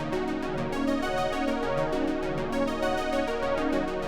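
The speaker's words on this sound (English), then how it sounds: "as a send from this arpeggio Juno" Arpeggio from a Juno synthesizer: bright, evenly pulsing notes repeating in a quick steady pattern over a sustained tonal bed, moderately loud with no voices.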